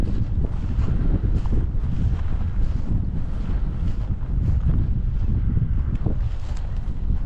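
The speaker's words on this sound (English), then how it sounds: "We got a good wind." Strong wind buffeting the microphone outdoors in open country during a bird hunt, a steady loud rumble with gusty surges throughout and no talk.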